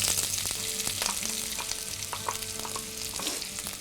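Chopped onions sauteing in a pan for chicken pulao give a steady, close sizzle and sputter throughout, with faint stirring clicks and a low background hum, and no talking.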